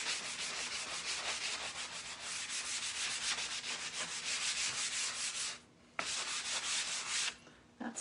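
Someone hand-sands wood smooth on a farmhouse-style DIY home decor piece, making steady, close rubbing strokes that briefly pause twice near the end.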